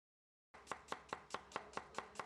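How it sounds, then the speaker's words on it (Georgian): A knife chops an onion into rings on a board for Georgian mtsvadi, making about nine crisp, evenly spaced cuts in quick succession after a moment of silence, close and clear with no talking. "დავჭრათ წინასწარ მრგვლად ან ალყა-ალყა ნაჭრებად თავი ხახვი."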